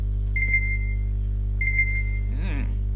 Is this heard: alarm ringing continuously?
yes